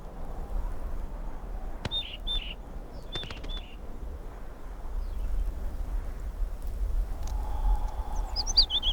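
Galapagos mockingbirds give short, sharp chirps in small clusters against quiet outdoor ambience on the islands, fairly faint and intermittent, with one more call near the end.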